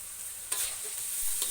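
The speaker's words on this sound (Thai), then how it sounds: "จากนั้นผัดให้เข้ากันครับ" Fried eggs with spring onion stir-fried in a pan: steady close hissing sizzle with a couple of brief spatula scrapes, no talk.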